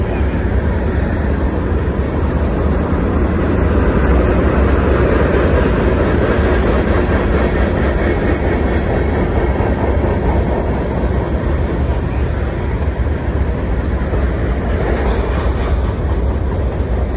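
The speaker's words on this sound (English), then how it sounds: "Once the locomotives get over the top, the back of this train should start moving a little bit faster." A Union Pacific manifest freight train climbs over Cajon Summit, giving a loud, continuous, steady roar and rumble of locomotives and rolling cars heard close by throughout.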